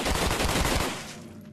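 A rapid burst of automatic gunfire in the Contractors VR zombies video game, loud and close, cutting off abruptly into a fading tail.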